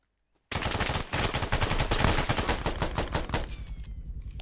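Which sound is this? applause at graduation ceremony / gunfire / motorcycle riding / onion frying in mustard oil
gunfire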